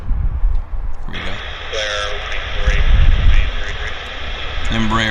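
An Embraer jet climbs out after takeoff on a hazy morning, a broad steady engine roar filling the air while voices and radio chatter talk over it throughout.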